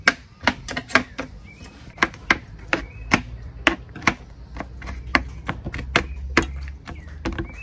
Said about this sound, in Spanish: Vamos a empezar a picar el ajo.